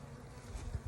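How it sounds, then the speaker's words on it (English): A dense, steady buzzing of many honey bees at a hive being smoked, close and loud, filling the whole moment without pause. "Smoke the bees."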